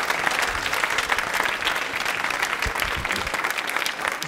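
Steady, enthusiastic applause from a studio audience at a televised quiz show, continuous clapping throughout with no break.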